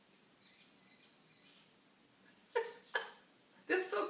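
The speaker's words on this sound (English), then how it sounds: "took a video of the birds singing and chirping" Birds singing and chirping on a Kenyan morning: faint scattered high calls over quiet background, then a few louder, brighter bursts of song close by near the end.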